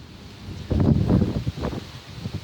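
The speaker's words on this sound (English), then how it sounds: "it's getting a little windy." Gusts of wind buffet the microphone, producing low rumbling bursts that rise and fade over a couple of seconds.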